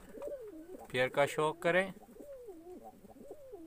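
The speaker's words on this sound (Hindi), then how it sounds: "देखिए दोस्तों कबूतर माशाल्लाह से सब एक्टिव है।" Domestic pigeons kept in a loft coo softly in repeated, rolling calls close by, while someone speaks briefly in a burst over them.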